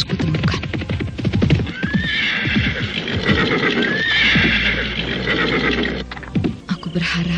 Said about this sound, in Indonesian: Di tengah-tengah bulak panjang yang berada di timur batas kota raja, Pinaka Swasti Ratu menghentikan kudanya.